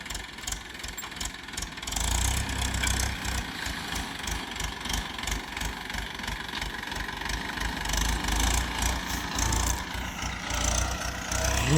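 An old-model Mahindra tractor engine idles out on a farm, a steady low chugging rumble with a knocking beat that stays loud and close and continues alone the whole time.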